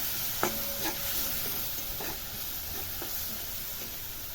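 Pasta being stirred with soy sauce in a hot pan, scraping and sizzling steadily with a few sharper utensil clinks against the metal, close and moderately quiet with no voices.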